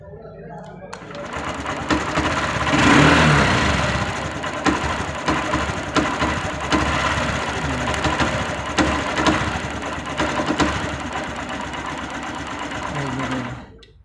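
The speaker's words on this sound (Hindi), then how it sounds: "वो एक गाड़ी जो है ना गुचकी मार रही है, अटक रही है गाड़ी" A Honda Shine motorcycle engine with a starting fault runs in an uneven, sputtering chatter, loud and close for most of the stretch before cutting off near the end.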